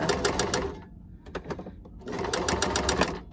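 A sewing machine stitches folded fabric in rapid, rattling bursts. The stitching stops briefly near the middle and then resumes strongly, heard up close.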